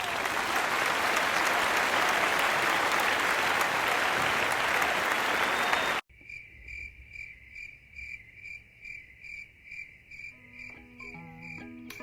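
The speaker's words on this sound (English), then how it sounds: "Everybody give yourself a huge round of applause." A room of people applauding, with dense, loud, steady clapping for about six seconds that then cuts off abruptly into a different, quieter passage.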